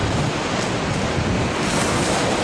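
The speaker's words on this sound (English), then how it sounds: "the water is coming in pretty fast" Water rushes in steadily at the Lake Ellesmere outlet, a broad continuous roar mixed with wind buffeting the microphone, with no voices.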